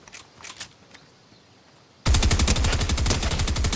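A Fortnite gunfight: after a quiet stretch with a few faint distant pops, a loud, rapid automatic burst erupts and keeps firing steadily until the end, with no speech.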